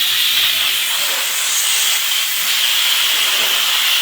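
Loud, continuous hiss of steam escaping from a pressure cooker, steady and unbroken throughout, close by with no talking.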